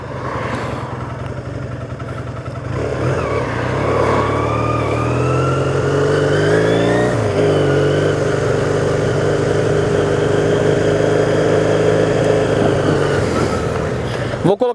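A Honda CBR 450SR motorcycle engine revs up through its gears in one loud, continuous run, its pitch climbing, dropping at each shift, then climbing again, with wind and road noise close by.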